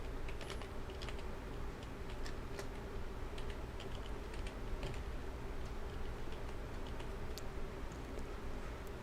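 Typing on a computer keyboard while setting up automatic recycle bin emptying on a PC, a steady patter of light key taps over a constant background hum, no talking.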